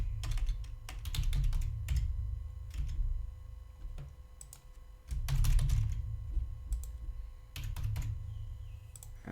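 Typing on a computer keyboard, clusters of quick key clicks in short bursts separated by pauses, close and clear, with no talk.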